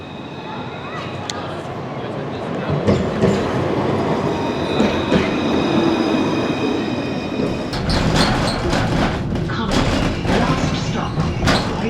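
A commuter train in Dublin rumbles loudly and steadily, with clattering wheels and high metallic squeals, while an announcement and voices sound over the noise.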